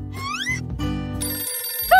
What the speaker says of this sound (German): Mann, ist das Telefon laut!